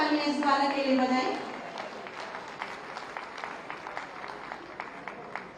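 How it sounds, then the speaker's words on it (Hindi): A voice is heard, then scattered, fairly faint audience clapping follows for a prize winner at a Uttar Pradesh Day cultural program. "आप सब जोरदार तालियां इस बालक के लिए बजाएं।"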